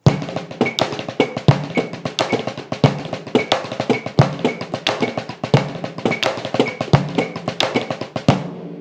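A drummer plays the Blushda rudiment at a faster tempo in groups of five. The close, crisp strokes form a steady rhythm with regular accented hits.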